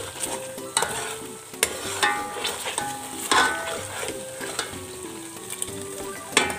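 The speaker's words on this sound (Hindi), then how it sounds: "चम्मच हिलाते रहें। आटा अलग हो जाएगा और तेल अलग हो जाएगा।" Flour sizzles and fries in oil as a spoon stirs it steadily, the scrapes and sharp clinks of the spoon recurring every second or so over a constant frying hiss while homemade desi ghee is made.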